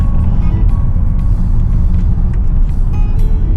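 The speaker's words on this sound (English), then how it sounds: "Dallas traffic is crazy" Steady road rumble from inside a vehicle in heavy Dallas traffic, continuous low engine and tyre noise with faint passing traffic, no talking.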